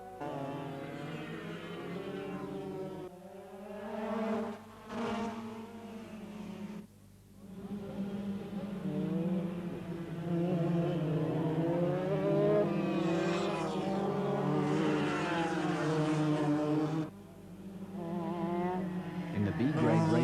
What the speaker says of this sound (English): The men's open class is a national class for go-karts with 100cc engines.